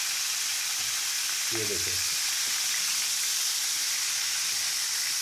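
Fish pieces frying in hot oil in a karahi for fish tikka masala, a steady loud sizzle throughout with a short burst of stirring or spoon contact midway and a brief spoken remark.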